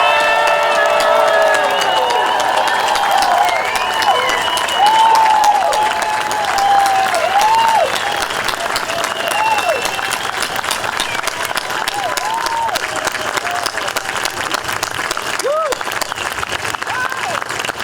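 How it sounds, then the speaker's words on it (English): A crowd at an outdoor sunrise 9/11 memorial ceremony yells, cheers and claps together in a sustained burst, with whoops and shouts rising over continuous applause that slowly fades. "us all yell and scream and clap and make as much noise as we can"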